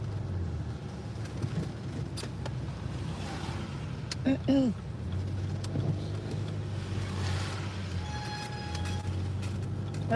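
A car driving along the road, heard from inside as a steady low engine and tyre rumble with wind noise, a brief tonal squeal midway, and people talking over it.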